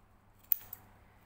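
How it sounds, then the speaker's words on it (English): Scissors snip notches into fabric seam allowance while sewing a gathered flounce, two quick close crisp snips in near silence. "So just snip the length of the T with the tip of the scissors."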